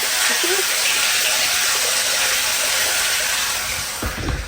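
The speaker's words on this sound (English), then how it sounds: "So you can hear the water's going in." Water gushes steadily into a poly water tank at a building site in Ghana, a loud continuous rushing hiss that fades slightly at the end.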